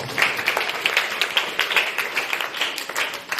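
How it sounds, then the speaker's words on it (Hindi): An audience at a school mathematics day celebration claps steadily to welcome a speaker onto the stage, a dense, continuous patter of many hands at moderate loudness with no talk over it. "एक बार जोरदार तालियों से हम उनका स्वागत करते हैं।"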